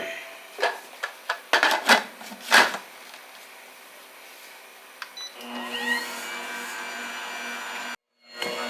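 An electric mixer whirs into batter made with fresh milled flour and rises to a steady high hum with a low motor tone. Several sharp knocks and clatters of bowl and utensils come first, and it cuts off abruptly near the end.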